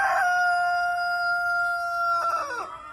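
A rooster crows loudly and close by inside a rabbit barn, one long drawn-out call that breaks and trails off near the end.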